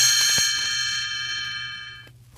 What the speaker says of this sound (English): You will know it is time to turn the page when Tinker Bell rings her little bells like this